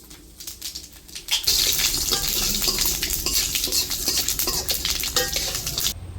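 Dried chilies, cinnamon sticks and cumin seeds drop into hot oil in a pan, setting off a sudden steady sizzle after a quieter start, with faint stirring scrapes running through it.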